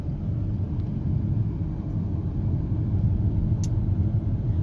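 Heavy highway traffic on Highway 80 in America, a dense continuous rumble of engines and tires that stays loud and steady throughout with no clear gaps between vehicles.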